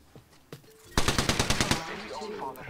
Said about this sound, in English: Where the shots came from?